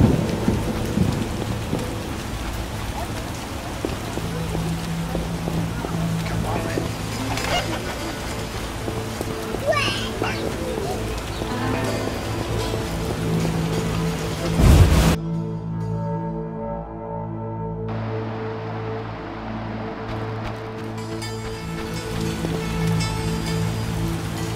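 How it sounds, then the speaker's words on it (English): Steady heavy rain pours in The Witcher PC game, with deep thunder rumbling through it and a sharp crack near the middle, after which the downpour continues more thinly under a low hum. "Scourge of the lords, this rain."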